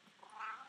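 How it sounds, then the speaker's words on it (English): Cat giving a short, faint meow, a single drawn-out call under a second long in a quiet room. "There's a cat."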